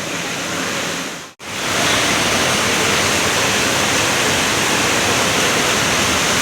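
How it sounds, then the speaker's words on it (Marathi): Heavy monsoon rain pours down in Vasai, a dense, steady roar that fills the whole clip, broken only by a brief dropout near the start. "हे बघा पाऊस कसा पडतोय."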